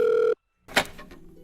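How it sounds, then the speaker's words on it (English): A telephone rings once with a bright electronic tone, then stops; after a short silence a clunk and faint handling noise follow. "the phone is ringing now"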